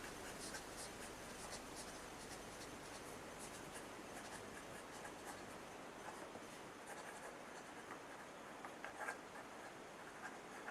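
A medium-nib Esterbrook honeycomb fountain pen with gold trim, filled with green ink, scratches steadily across paper in soft, continuous strokes, faint and close up against a quiet background hiss.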